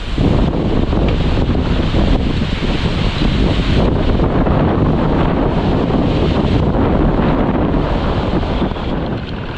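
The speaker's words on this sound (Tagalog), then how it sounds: "Ang hangin no." Strong wind from Typhoon Carina and the southwest monsoon roars and buffets the microphone nonstop near a river and rice fields, loud and rough throughout.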